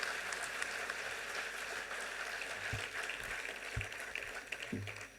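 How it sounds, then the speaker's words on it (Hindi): Applause from a large audience at a Gayatri Pariwar event in Bharat Mandapam welcoming Dr. Chinmay Pandya, a dense steady wash of clapping heard from a distance, with a few low thumps near the end. "जोरदार तालियों से अभिनंदन डॉक्टर चिन्मय पांड्या जी"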